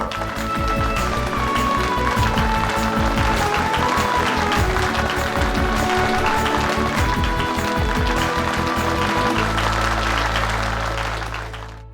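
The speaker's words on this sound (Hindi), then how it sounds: "तालियां।" Loud, sustained applause from a large crowd at an award function, dense and steady for about ten seconds before tapering off, with a rhythmic thumping undertone.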